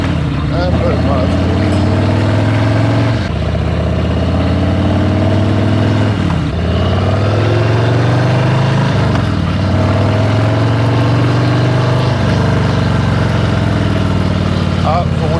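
A Harley-Davidson motorcycle engine runs continuously with a deep, loud, throbbing rumble, dipping slightly a few times as if easing off the throttle, with voices faintly underneath.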